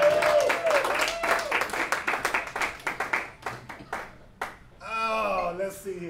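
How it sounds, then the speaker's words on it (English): An audience at a puppet comedy show claps, with sparse, distinct hand claps in an uneven rhythm that thin out, mixed with a voice speaking and some other vocal sounds. "You can clap, it's okay."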